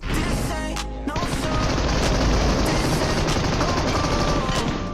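Automatic gunfire from a weapon spray in the PUBG video game, a loud, dense, rapid stream of shots that starts abruptly after a short pause and runs on without a break.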